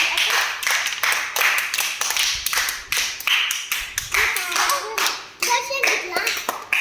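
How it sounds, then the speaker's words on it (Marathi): Several people clap for a player during a Marathi bead-threading game, a steady run of sharp handclaps close by, with faint children's voices in the background. "दर्शन बघा, टाळ्या वाजवा तुम्ही त्याच्यासाठी कोण जिंकतं तर."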